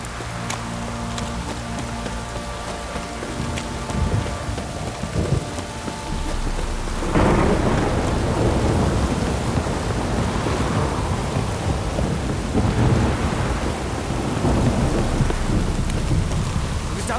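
Steady heavy rain pours down in The Witcher 3, with thunder rumbling through it. The downpour swells louder around the midpoint and stays dense and close to the end, with a brief murmur of voice.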